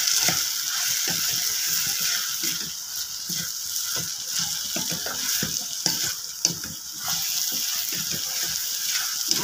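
Chopped ridge gourd cooks in a pan for thokku, giving a continuous soft sizzle and bubbling hiss with faint scattered clicks. The sound is steady and close, with no talking.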